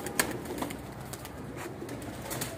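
Pigeons coo softly nearby, low throaty calls mixed with faint rustling and a few scattered sharper sounds under light background noise.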